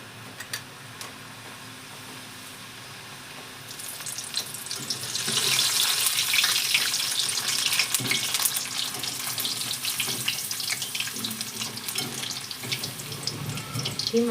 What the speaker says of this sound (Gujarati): ધીમા ગેસે તળવાની છે એટલે સરસ એમ કહેવાય તળાઈ જાય.